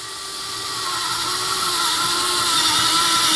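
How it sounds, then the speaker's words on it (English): A Vessel electric ball grip screwdriver drills a hole with a 1/8 inch hex bit, giving a steady, fairly close motor whine that builds slightly in loudness and runs continuously without talk. "let's see how well this vessel does at drilling a hole"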